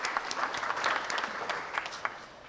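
A small crowd at a 90+ birthday celebration applauds volunteer students, brief warm clapping that swells and then fades out.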